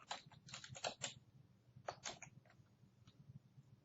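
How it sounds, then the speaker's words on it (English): Computer keyboard typing in short bursts of quick, close keystrokes, with a pause in the middle and a few scattered taps afterward over faint room hum. "if you just start typing the name"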